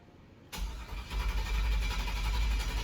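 A rebuilt 5.3 iron-block V8 cranks after a brief quiet moment, then settles into a loud, steady churning whirr close by that continues to the end.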